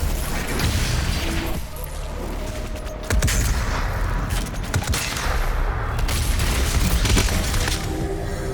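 Gunfire from DOOM Eternal while shooting a shielded demon: dense volleys of shots and booming blasts crash continuously, with bursts of impacts and shattering over a roaring background.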